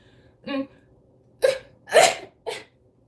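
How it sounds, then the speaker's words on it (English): Several short, sharp bursts of breath: a small sneeze followed by a few louder explosive sneezes in quick succession, close by in a quiet room. "that was a sneeze"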